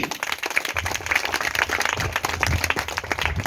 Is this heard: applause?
yes